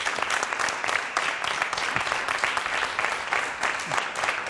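Dense, steady applause from a television studio audience, loud and sustained throughout with a bright, crowded texture of many hands clapping at once.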